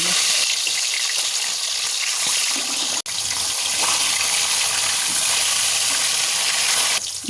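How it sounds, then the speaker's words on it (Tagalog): Tilapia fish frying in hot oil, a steady dense sizzle and crackle running throughout at close range, loud and continuous, with a brief sharp tick near the middle and no voices. "Ngayon naman ay magpiprito naman ako ng tilapia."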